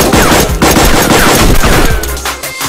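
Dense, continuous video-game gunfire from a PvP match, a rapid fusillade of loud close shots and bursts that thins out near the end.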